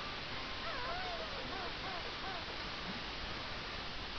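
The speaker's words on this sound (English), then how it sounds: "I want to see if there's something under this waterfall." A waterfall in the video game Banjo Tooie roars as a steady, even wash of rushing water, loud and continuous throughout, with faint chirping sounds briefly over it.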